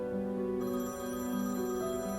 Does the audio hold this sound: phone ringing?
yes